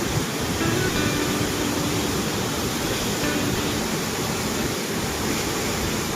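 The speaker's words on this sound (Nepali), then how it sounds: "सानो खोलेको यत्रो पानी आएको" Water rushes out of an opened gate at the Marsyangdi hydropower dam in Lamjung, a loud continuous broadband roar that holds steady throughout with no talk.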